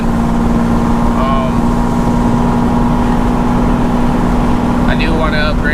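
Steady engine drone from a car being driven after a slave cylinder change, a constant loud hum throughout with someone talking over it.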